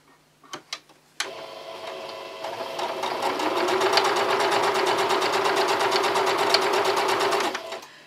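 A sewing machine stitches patchwork fabric. A few light clicks come first, then the machine runs in a fast, even, rattling stitch for about six seconds before stopping abruptly.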